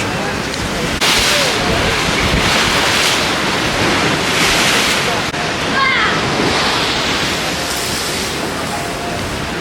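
Strong wind roars across the microphone while sea waves crash and wash steadily on the coast at Dubrovnik, a loud, continuous rush with surges of surf.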